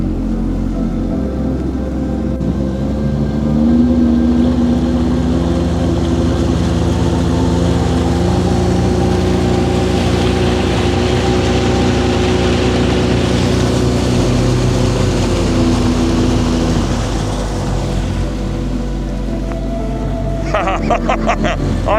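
A Sea-Doo personal watercraft engine runs steadily with a loud, continuous droning hum that rises slightly in pitch partway through, heard up close in cold weather.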